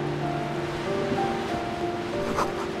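Waves crash in darkness in the video game Disco Elysium, a steady surf roar with a faint tonal drone beneath it and no voices.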